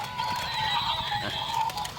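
A horse whinnies loudly over a brief patter of hooves, close and alone, lasting about two seconds.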